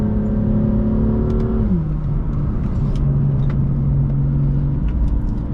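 BMW M2 F87 turbocharged engine heard from inside the car, loud and steady, its tone climbing then dropping sharply at a gear change before pulling on again with faint whooshing chirps, no talk.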